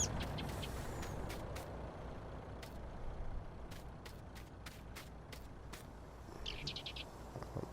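A truck pulls up and its air brakes hiss during a farm scene in a Farm Simulator game, with steady engine rumble beneath, a few faint chirps and short sharp releases scattered through.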